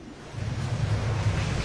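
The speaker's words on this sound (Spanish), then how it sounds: "Solo algunas olas bastan para aplastar al modelo." Waves crash and surge over a model fishing boat in a test tank, a steady churning wash of water with low rumbling swells, close and fairly loud with no voices.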